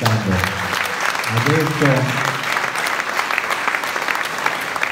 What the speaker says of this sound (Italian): potremmo intanto cominciare con un bel applauso per le operaie e gli operai della CKN